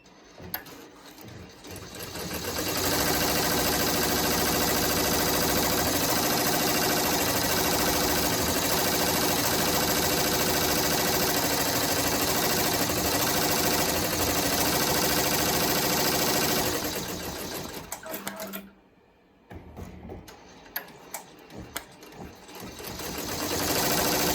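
A Ricoma embroidery machine stitches an applique baby gown, its fast steady needle whir loud and continuous for about fifteen seconds, then slowing and stopping, followed by a few light clicks.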